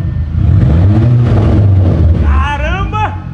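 An Audi engine with no muffler, exhaust pipe only, revs hard and loud, rising and falling, with a raspy open-exhaust roar and a voice exclaiming over it near the end.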